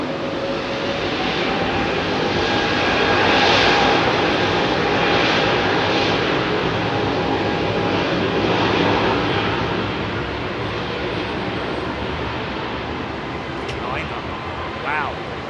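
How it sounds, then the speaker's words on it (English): An American Airlines Boeing 777 with Rolls-Royce Trent 800 engines at a foggy Heathrow, giving a loud, steady jet roar that swells and then slowly fades, with a voice talking over it. "Rolls-Royce Trent 800 power on this American jet"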